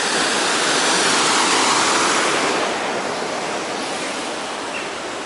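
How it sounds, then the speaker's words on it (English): A waterfall at Betws-y-Coed in Wales roars as a broad, continuous rush of falling water, loud and steady, easing slightly toward the end. "Attractive waterfalls."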